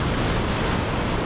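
Ocean waves washing up at high tide on Piliw Beach in Llorente, Eastern Samar, a dense continuous roar of surf close by, with wind rushing over the microphone.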